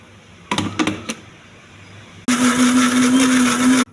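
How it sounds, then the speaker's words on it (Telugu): Soaked green gram with ginger, green chilli, cumin and salt sits in a mixer grinder jar; a few clunks of the lid and jar come first, then the motor roars steadily and loudly for a second and a half. "మెత్తగా మిక్సీ వేసుకోవాలి."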